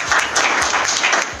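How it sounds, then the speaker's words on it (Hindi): An audience at an IMC business plan presentation breaks into hearty applause, close and loud, a thick burst of many hands clapping that stays strong throughout the short moment. "उनके लिए एक जोरदार तालियां"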